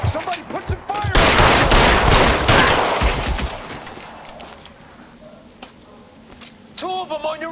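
Rapid gunfire in an LA Noire shootout, dense bursts of shots cracking in quick succession, loudest early then thinning into scattered shots, with voices shouting over the fighting.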